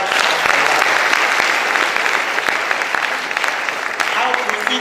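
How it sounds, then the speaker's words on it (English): A crowd at a high school graduation ceremony claps in a steady, dense round of applause, loud and sustained, with faint voices mixed beneath it. "shall we give a round of applause to God for that?"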